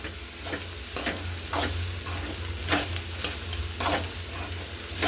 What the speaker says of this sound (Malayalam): അരിഞ്ഞു വെച്ചിരിക്കുന്ന ബീൻസ് അതിൻ്റെ അകത്തേക്ക് ഇടാൻ പോകുന്നു. ബീൻസ് ഇട്ട് നല്ല മിക്സ് ചെയ്ത്